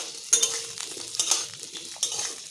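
Potatoes fry in a pan, a low sizzle under a few sharp metallic scrapes and clinks of a spoon stirring against the pan, close and brief with no voices.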